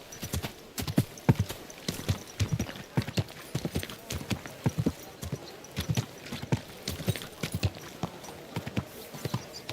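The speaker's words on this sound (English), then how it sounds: "Easy, good horse." Horse hooves clip-clopping in the video game Kingdom Come: Deliverance II, at a brisk, uneven walking rhythm on a hard surface, many sharp knocks across the whole stretch.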